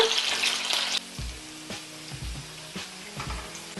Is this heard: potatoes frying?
yes